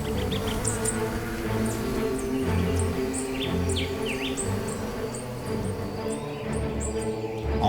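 Birds in the Dominican Republic chirp repeatedly in short, bright calls over a steady, dense background buzz resembling insects, continuing throughout without any talking.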